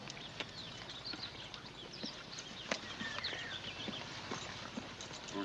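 Horses ride off at a clip-clop, their hoofbeats a steady scattered patter of sharp knocks over an outdoor background with faint birdsong, moderately distant and fairly quiet throughout.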